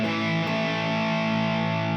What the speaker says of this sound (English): with power chords, we got a root, a fifth, and an octave. And these usually sound good with distortion.